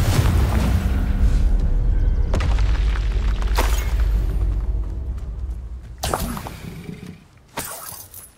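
Confringo fire spell blasting in Hogwarts Legacy, a sustained low booming rumble with crackling bursts, followed by several sharp explosive impacts toward the end.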